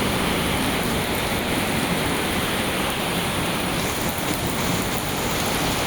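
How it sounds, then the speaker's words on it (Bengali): Heavy rain pours down outdoors in a dense, steady roar of hiss that stays constant from start to finish, with no voices. "অনেক বৃষ্টি হচ্ছে"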